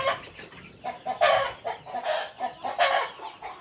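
Meat-type chickens clucking in a poultry coop, several overlapping bursts of close, fairly loud clucks in an irregular rhythm, with no talk.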